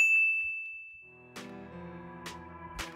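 A bright bell-like ding rings out, a sustained tone followed by a few clanging metallic strikes that ring and decay, close and alone.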